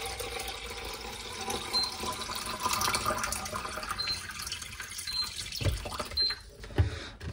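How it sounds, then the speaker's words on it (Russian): Water pours for making coffee, about 600 ml running steadily into a vessel with a continuous close, splashing flow, a few faint clinks near the end. "Да, сейчас нальем литр. Ой, какой литр? 600 миллилитров воды."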